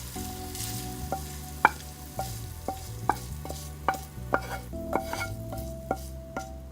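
Cooked beef is lifted out of a sizzling pan, with a steady frying hiss under a regular series of sharp metallic spatula clicks and scrapes against the pan, close and fairly quiet, with no talking.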